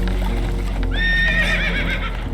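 Spooked horses neigh in the video game Red Dead Redemption 2, with one loud, close, wavering whinny rising over a constant low rumble and faint hoof clatter.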